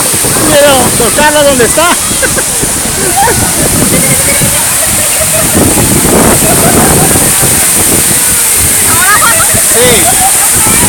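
Juan Curi waterfall in the páramo roars loudly and constantly close by, with splashing water and some wind buffeting the microphone, while people talk over it.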